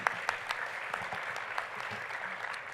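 Applause from a conference audience at a Duchenne muscular dystrophy advocacy event, a steady mid-level wash of many hands clapping with a few sharper individual claps standing out, no talking over it.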